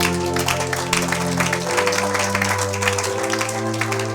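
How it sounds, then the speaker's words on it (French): A church congregation applauding in worship, steady dense clapping over sustained music, loud and close throughout. "Acclamez pour la gloire à notre Dieu"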